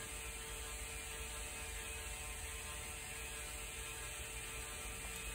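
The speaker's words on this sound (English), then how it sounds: "press down a bit harder, and that'll bow the belt down, which means that we end up grinding in a tighter curve" Belt grinder working the bevel of a chef knife, a steady continuous whirring grind with a faint high whine, constant in level throughout with no pauses.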